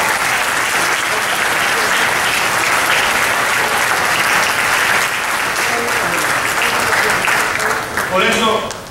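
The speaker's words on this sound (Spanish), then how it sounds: "Denle un aplauso" Congregation applause during a Spanish-language church sermon, loud continuous clapping from many people close by, holding steady before tapering at the end as a voice begins to rise.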